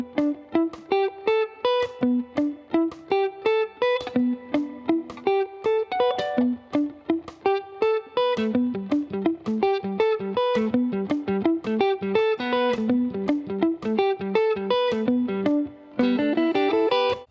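A math rock electric guitar riff with two interlocking parts, rapid bright picked notes running continuously and densely, loud and close, ending in a fast run with no talk.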